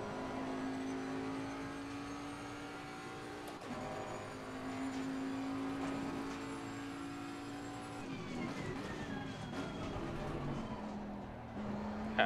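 A Bentley Continental GT3 2018 race car in Assetto Corsa Competizione drones steadily at high revs, with a shift partway through and a tone that changes as the engine load varies. It plays alone at moderate level, without speech.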